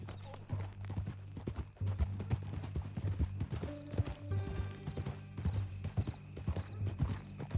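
A horse's hooves clip-clop in a steady rhythm in the Western game Red Dead Redemption 2, close and clear, with a brief neigh and some mechanical creaks along with it.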